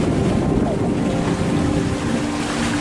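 Steady wind of about 15 knots and roughly one-metre ocean waves wash around a sailboat at sea off the North Carolina coast, forming a continuous loud rushing of wind buffeting and water noise.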